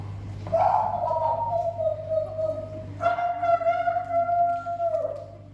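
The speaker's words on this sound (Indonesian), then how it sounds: "Burung-burung pun berkicau bersahut-sahutan." Bird calls ring out as long, drawn-out whistling tones, one after another, over a steady low hum.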